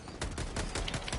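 Rapid bursts of automatic gunfire from the video game Helldivers 2 crackle continuously through a brief stretch, dense and loud with overlapping shots and no talking.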